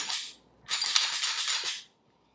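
A Sig Sauer P320 AXG pistol has its slide racked to clear it, giving two crisp metallic sliding clacks in quick succession, close and sharp, followed by silence.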